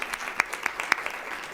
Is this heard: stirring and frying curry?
no